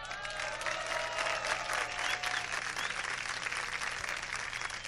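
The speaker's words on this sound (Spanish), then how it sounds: "Aplauso." A stand-up comedy audience at Club Sunshine claps loudly and continuously, a dense crowd applause that swells early and then holds steady before easing slightly.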